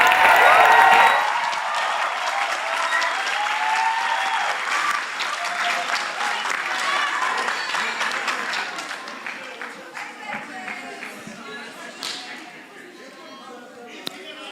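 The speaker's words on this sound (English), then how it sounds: "Let's offer them a round of applause" A round of applause at a student representative council inauguration begins with cheering voices over dense clapping, then thins into scattered individual claps that fade out.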